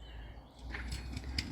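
A crow on an allotment plot flaps its wings, a brief soft flurry of wingbeats close by, over low outdoor background rumble.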